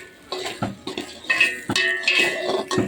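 Rice is stirred in a pot for a vegetarian bhog offering, with repeated scraping and knocking of a spoon against the metal pot, close and rhythmic in uneven strokes.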